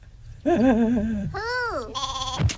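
A cartoon sheep in a VeggieTales episode gives three close, clear bleats, the first long and quavering, the second swooping up and down, the last short and flat.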